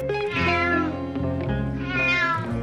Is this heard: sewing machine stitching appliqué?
no